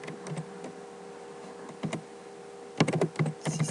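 C# code being typed on a computer keyboard, close and clear: a scattered run of light key clicks, a short pause, then quicker clustered bursts of keystrokes toward the end, with no talking.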